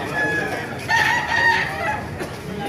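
A talisay gamefowl rooster crows close by. The call rises in a couple of strained swells over a faint farmyard background.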